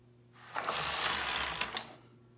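A sock knitting machine running, a close whirring, rattling mechanical burst lasting about a second and a half with a couple of sharp clicks near the end, over a faint hum.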